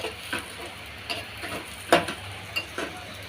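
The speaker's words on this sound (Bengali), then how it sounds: "তো এটা একটু লাল লাল করে ভেজে নিই।" Spices sizzling in hot oil in a pan while cooking taro stems, a steady low frying hiss broken by a few sharp clicks of stirring against the pan.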